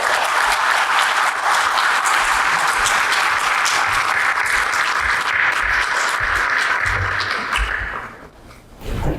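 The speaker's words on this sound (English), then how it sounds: "Please welcome him with a warm round of applause." Sustained, dense applause from a large audience at a formal address fills the room for several seconds, then fades out near the end.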